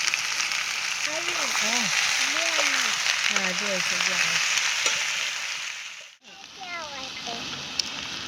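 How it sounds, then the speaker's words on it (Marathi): Chopped onion frying in oil for dal, a steady broad sizzle heard close up under a voice talking, with a brief dip near the end before the sizzling resumes. "डाळ कांदा बनवायला जरा तेल टाकून कांदा तळून घेते"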